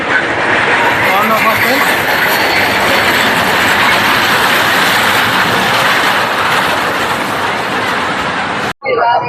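A small ride-on train at a Bhaluka amusement park rumbles and clatters on its rails, loud and close for several seconds, with rolling wheel noise and faint squeals and voices mixed in.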